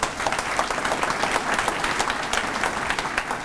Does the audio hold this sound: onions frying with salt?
no